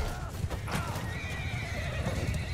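Horses of horse archers in a video game battle, one loud whinny over steady clip-clop of hooves amid dense, constant battle noise, with no clear speech.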